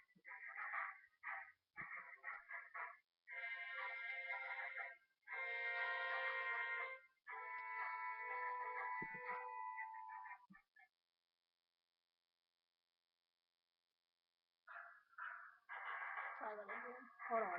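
A cell phone ringtone plays as a loud melodic tune in several bursts, pauses into silence, then resumes briefly near the end.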